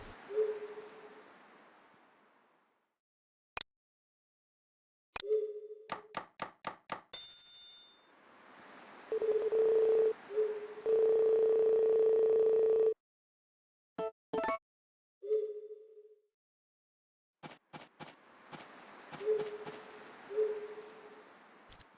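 Phone dialing in the video game Harvest Moon DS: a series of short electronic beeps as buttons are pressed, then a steady synthesized dial tone, repeating in bursts with silent gaps between.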